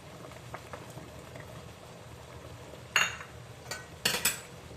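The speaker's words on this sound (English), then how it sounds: "Once the water has come to a boil," Water for Vietnamese bun bo Hue soup bubbles quietly at a low simmer in a pot, with a few sharp clinks and taps of metal toward the end.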